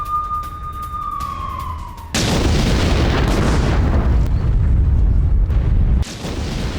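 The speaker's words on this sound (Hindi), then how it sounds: "मारियोपोल के रिहायशी इलाकों से लेकर वहां के इंडस्ट्रियल एरिया में बमबारी हो रही है।" Bombing in the war-torn city of Mariupol, Ukraine: a wailing siren tone at first gives way to a sudden loud, dense roar of blasts and rumble that fills the rest of the scene, briefly dipping near the end.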